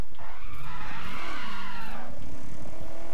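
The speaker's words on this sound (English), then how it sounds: "nice little drift" Car drifting in The Crew, a loud, close tire squeal that sweeps and wavers in pitch for about three seconds over the engine's growl.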